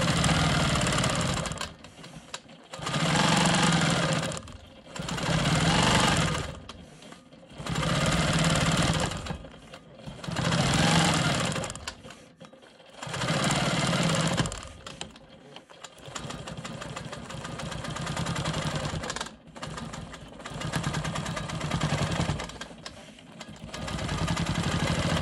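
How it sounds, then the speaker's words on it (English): A Quilt Maker Pro 20 sewing machine stitches in the ditch on a quilt block, running in about eight humming bursts of one to two seconds, each separated by a short pause. "I'm going to go ahead and stitch in the ditch here before I start my ruler work in the middle"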